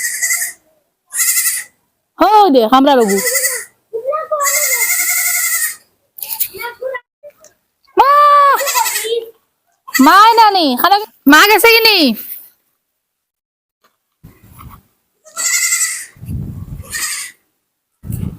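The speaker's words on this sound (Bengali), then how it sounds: "বিকাল হয়ে গেছে দেখে ছাগলগুলো মাকে ডাকাডাকি করতেছে" Several goats bleat loudly and repeatedly in the afternoon, calling for their mother in wavering, close cries scattered across the stretch, while people talk nearby between the calls.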